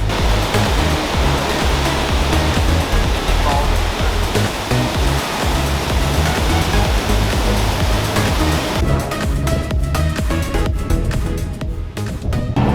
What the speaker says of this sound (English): This is Watson Falls.